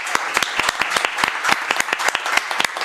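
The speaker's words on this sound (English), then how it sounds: "I just wanted to give a big round of applause to the panel." Audience applause for a panel at the close of a WTDC side-event session, a dense, close clatter of many hands with sharp individual claps standing out, steady throughout.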